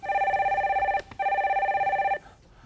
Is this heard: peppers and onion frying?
no